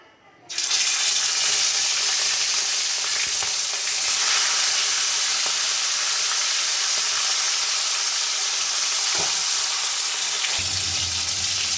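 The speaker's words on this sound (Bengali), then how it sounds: "এবার এটাকে আমি ভেজে নেব।" Fish sizzles steadily in hot oil in a pan, lightly sautéed rather than deep-fried, a dense continuous crackle starting abruptly and lasting throughout, close and loud.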